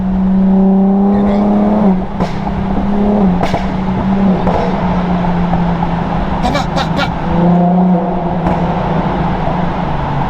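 Tuned Infiniti Q50 accelerating through a tunnel, its engine droning loud and close with rising harmonic tones that climb, drop at a gear change and climb again, over a broad road roar with a few sharp pops.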